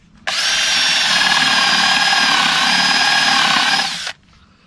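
A power drill countersinks screws into a wooden concrete form, one continuous loud whirring burst of about four seconds with a sharp start and stop, close up and alone without talk.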